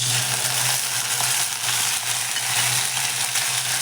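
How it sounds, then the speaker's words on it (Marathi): Dal frying in a pan with sautéed garlic for a chigal leaf vegetable dish, a steady, loud close sizzle with soft stirring textures running throughout without pause. "आता आपण ही डाळ घालून घेऊयात"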